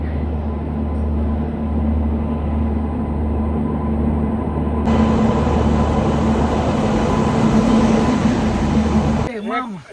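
A train arriving at a station rumbles steadily with constant low noise that swells slightly midway, then a brief wavering squeal near the end.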